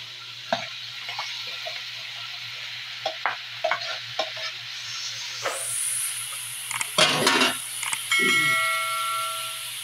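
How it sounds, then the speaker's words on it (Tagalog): Shrimp hit a hot pan and sizzle loudly while being stirred, with scraping strokes and a steady hiss building after a quieter stretch of light clinks and taps. "Okay, lagay ko na ito ang aking shrimp."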